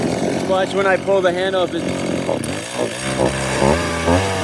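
Echo CS 4400 chainsaw, a 43.6 cc engine with an air leak that makes it bog, running close by with a revving buzz that rises and falls as someone speaks over it.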